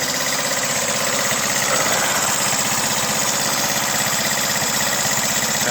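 A Gy6 150cc scooter engine with a seized piston idles steadily up close, a rough, even chugging with a faint knock and buzzy mechanical rattle throughout.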